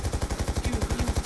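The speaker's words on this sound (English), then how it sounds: "Kyle, is that your gun noises?" Rapid automatic gunfire in Call of Duty: Black Ops, a fast, even stream of about a dozen shots per second, steady and fairly close with no talk.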